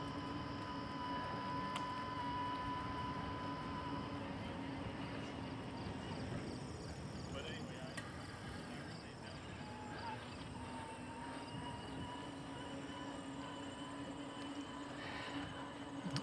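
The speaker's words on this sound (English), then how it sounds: "you hear a very soft whining of the motor, but man, you barely hear this motor" Bafang mid-drive motor on a Himiway Rambler Premium e-bike giving a faint, steady whine while riding, low under broad rolling and wind noise with no talk over it.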